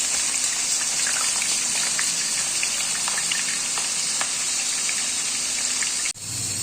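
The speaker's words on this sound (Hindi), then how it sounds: "अब एक कढ़ाई में मैंने 1 कप ऑयल ले लिया, और एक दरमियानी प्याज है, इसको मैंने इसमें डाल के गोल्डन कर लेना है" A medium onion fries in about a cup of oil in a kadhai (wok), producing a loud, steady broadband sizzle that runs almost the whole time before a short break near the end.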